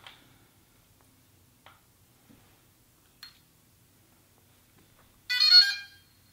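A few faint electronic clicks and chirps spaced out over quiet, then a short, louder bright melodic beep sequence near the end, from a DJI Inspire 1 drone powering on for a firmware update.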